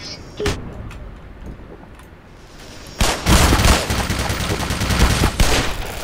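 A grenade blast in the game Black Mesa hits hard at the three-second mark, a loud, close broadband burst that lingers in a dense noisy rumble, with a sharp earlier crack just before it.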